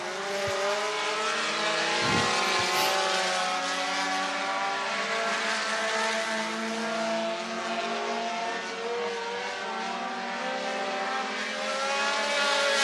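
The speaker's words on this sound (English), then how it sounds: "hot lap qualifying for our front-wheel drive division" Front-wheel drive race cars on hot lap qualifying at I-75 Raceway in Niota, Tennessee, a steady loud engine drone holding throughout with a sustained revving whine and no talk.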